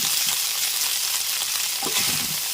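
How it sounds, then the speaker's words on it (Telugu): Boiled flour batter is stirred into a sizzling tempering in a pan, with steady frying hiss and a few scraping strokes of the spoon, close and clear, no talking. "ఇవన్నీ ఇప్పుడు మనం ఉడకబెట్టిన పిండి ఇందులో కలిపేస్తున్నాను"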